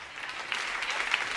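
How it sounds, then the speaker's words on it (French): Church congregation applauding, a brief spell of scattered hand clapping heard at a moderate distance, fairly soft and uneven. "Applaudissements."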